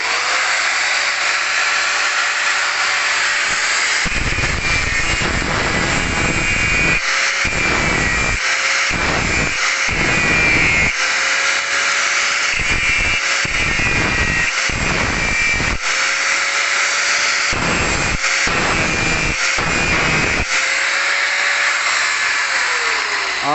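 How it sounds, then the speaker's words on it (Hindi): An angle grinder pressed against nickel metal, a loud, close high-pitched whine that repeatedly cuts out and restarts in short bursts over a long stretch, with no talking. "आपने अभी देखा हमने निकल के ऊपर जो है जब ग्राइंडर को लगाया तो इसमें से कोई सी भी चिंगारी किसी भी किस्म की नहीं निकली।"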